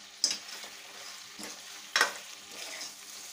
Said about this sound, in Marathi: आता हा मसाला मी या मटणामध्ये टाकून घेते. पुन्हा सर्व मिक्स करून घेऊया.